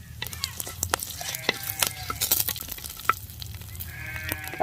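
Cumin, cinnamon, cloves, black pepper and dried red chillies sautéing in oil for a kuzhambu, with a steady close sizzle and scattered scraping and clinking from a spatula stirring the pan.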